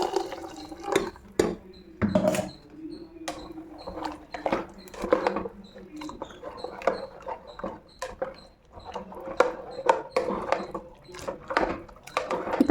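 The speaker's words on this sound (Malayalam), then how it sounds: "ഇനി അരപ്പ് ഇതിലേക്ക് ഒഴിച്ചു കൊടുക്കാം കേട്ടോ" Ground coconut paste is poured into cooked chickpea curry in a pot. Soft wet splashes and drips mix with scattered light clinks of utensils on the pot, fairly quiet and irregular throughout.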